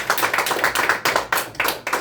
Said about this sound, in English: Please give him a round of applause if he's been a little bit patient.